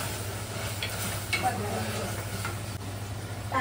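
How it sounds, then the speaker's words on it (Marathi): Onion-garlic paste frying in oil in a pan, a soft continuous sizzle with occasional stirring scrapes, close by over a low steady hum. "कांदा लसूण पेस्ट आहे ना, कधी पण तेलामध्ये व्यवस्थित फ्राय करून घ्यायची"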